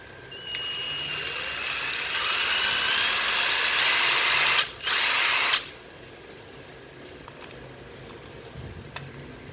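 A Japanese cordless drill runs in reverse, a loud steady high whine that briefly cuts out and restarts, then stops, leaving quiet room noise.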